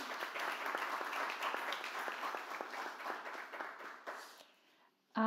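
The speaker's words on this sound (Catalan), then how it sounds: "Si voleu aplaudir." Applause from the audience at a terminology conference session, a full round of clapping with some individually sharp claps that gradually thins and fades away near the end, followed by a brief sudden noise.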